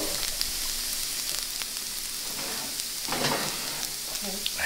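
Hash browns sizzle in a skillet during breakfast cooking, a steady close frying hiss with a few louder crackles and stirring scrapes.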